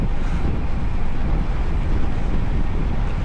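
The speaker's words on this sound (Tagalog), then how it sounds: "Grabe yung hangin." Strong wind buffets the microphone during a Saturday group bicycle ride, a steady, loud, broadband roar that never lets up and carries no voices.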